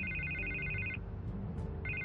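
A telephone rings in a Batman episode, a bright electronic trill sounding twice with a short gap between bursts, set against a low background hum.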